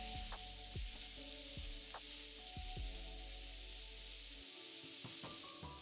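Carrot pieces and masala sizzle and fry steadily in a hot pan, with soft clinks and scrapes of a spoon stirring through the cooking.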